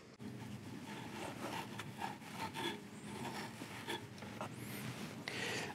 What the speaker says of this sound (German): Jetzt müssen wir einmal mit unserem Schleifvlies arbeiten und mit unserem Entgrater.